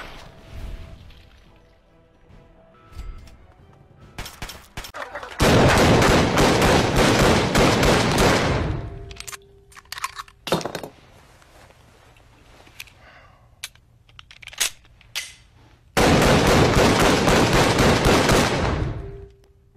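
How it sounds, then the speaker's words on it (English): Gunfire in the Fallout 3 video game: two long, loud bursts of rapid shots, separated by a quieter stretch holding a few isolated bangs and clicks. "I started blasting. Bang."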